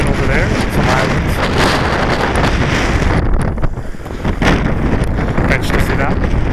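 Strong coastal wind buffets the microphone in a loud, continuous roar that eases briefly midway, with a voice faintly present beneath it.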